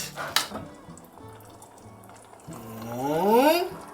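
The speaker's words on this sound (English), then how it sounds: "We'll give that a bit of a mix together and add some water." Water is poured into a cooking pot in a kitchen, a gurgling fill that rises in pitch over about a second and a half. It follows a quieter stretch with a sharp knock near the start.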